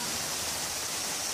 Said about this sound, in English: It's raining on the lake.